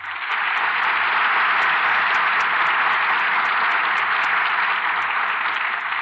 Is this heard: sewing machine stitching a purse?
no